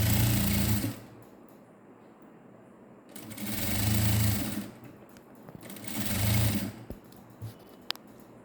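A sewing machine stitches a puff sleeve onto a net blouse in three loud, whirring bursts. Each run lasts about a second and is separated by quiet gaps, with no voices.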